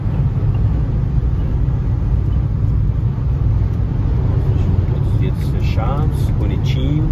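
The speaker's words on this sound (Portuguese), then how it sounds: "motorzinho turbo puxa bem" Peugeot 2008 GT with a small turbo engine driving through a roundabout, heard as a continuous low cabin rumble and road drone at steady volume, with a voice speaking over it.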